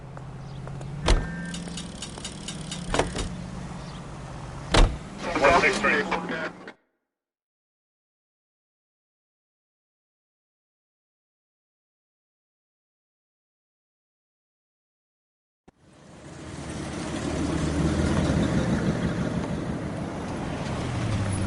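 A car driving in the video game LA Noire, engine hum with clunks and mechanical knocks, then a gap of silence before a rising, steady engine roar returns.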